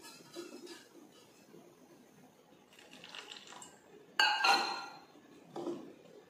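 A spoon stirs boiled beetroot juice into henna powder in a bowl, mostly soft scraping with a couple of sharp, bright clinks against the bowl near the end.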